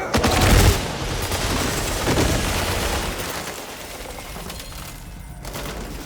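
Gunfire in the video game 007 First Light, a dense, loud burst of overlapping shots and booming impacts in the opening seconds that thins into a continuous rumbling firefight with scattered reports.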